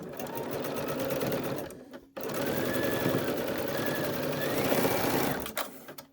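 A sewing machine stitches quilt pieces in rapid, continuous runs, briefly stopping partway before resuming, close and clear with no talk over it.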